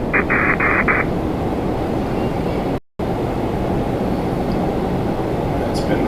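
An Air Canada A320 from 1991, roughly 35 years old, starts its takeoff roll on runway 24 right at Toronto Pearson, a broad steady engine roar heard from a distance under constant talk, with a brief dropout midway.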